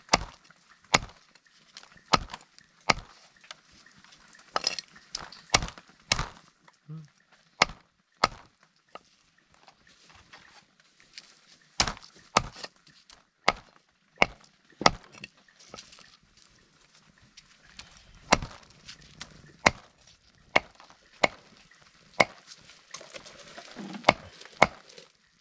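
Food is chopped by hand outdoors in a forest while dinner is gathered and cooked. Sharp knife knocks on a board repeat irregularly for about twenty-five seconds, close and crisp, with faint background noise and no clear talk.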